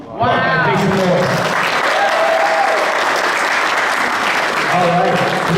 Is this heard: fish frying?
no